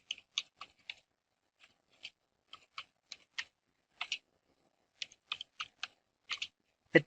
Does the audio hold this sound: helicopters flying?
no